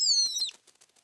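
A small cartoon bird flutters its wings in a snowy winter cartoon scene: a quick, bright whistling swoosh that slides downward, followed by a few soft, fading flutters.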